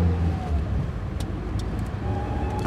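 Steady low rumble of a car driving along a road in The White Door, a continuous engine and tyre drone with no talk.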